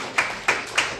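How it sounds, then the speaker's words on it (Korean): A church congregation at a Sunday morning service claps together in time, three sharp, unison claps spaced evenly about a third of a second apart, fairly loud and close, with no talking. "그 예수 그리스도께 박수로 영광 돌리겠습니다"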